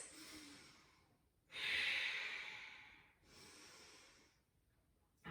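Slow, deep ujjayi breathing during a core yoga flow, close and steady, with long breathy inhales and exhales rising and fading in a calm rhythm, no talking.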